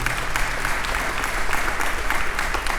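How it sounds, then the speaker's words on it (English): Steady audience applause fills a chartering ceremony for an Alpha Phi Alpha Fraternity chapter, many hands clapping at an even, moderate loudness throughout with no voices on top. "Give them another round of applause."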